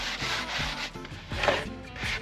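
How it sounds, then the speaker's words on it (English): Hand sanding of wooden trim on a small sailboat, a close, quiet rhythm of short rubbing strokes repeated back and forth. "Marina's just sanding at the moment"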